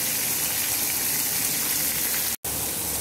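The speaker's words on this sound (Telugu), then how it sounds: "కరివేపాకు రెమ్మలు, పచ్చిమిర్చి, ముందుగా కట్ చేసి పెట్టుకున్న ఆనియన్స్ అవన్నీ వేసి కొంచెం ఫ్రై అవ్వనివ్వాలండి" Onions, curry leaves and green chillies fry in hot oil in a pan for poori curry, a loud, steady broadband sizzle with a brief cut near the end, no speech.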